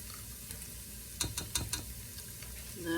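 Tomato paste toasts in a hot pan for a lasagna sauce, giving a soft, steady sizzle with a few brief clicks and scrapes of stirring near the middle. The sound is quiet and there is no talk.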